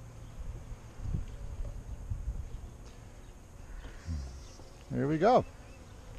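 Honey bees buzz faintly at a garden hive during feeding, a soft, continuous drone with a brief spoken remark near the end.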